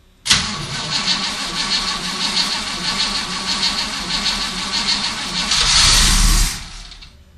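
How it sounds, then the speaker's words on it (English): Car engine cranking over to prime the carburetor: a steady, rhythmic starter churn that continues for several seconds, swells louder near the end and then stops without catching. "just crank the engine over for 10 or 15 seconds to prime the inside of the carburetor"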